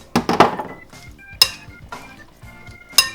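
Utensils clink and scrape against a bowl while a salad is tossed with pomegranate molasses, a few sharp knocks and clatters separated by short pauses, close and alone.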